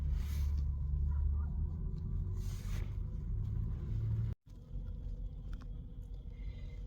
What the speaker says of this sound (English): There's a lot of activity out here at the truck stop